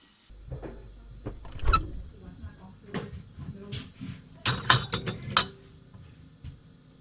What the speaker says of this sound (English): we're going to stick this in the fridge now.